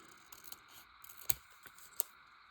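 Scissors snip through paper for a sticker collage, a few quiet, sharp, close cuts spaced unevenly, with two crisper snips standing out, and no one talking.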